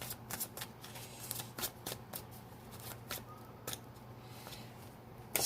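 Tarot cards are shuffled by hand in a series of quick, crisp riffles and flicks, close and fairly soft, with uneven bursts and short pauses between them.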